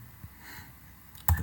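Keys tapped on a computer keyboard while a spreadsheet formula is entered, a few scattered soft clicks ending in one louder, sharper keystroke, close and without talk.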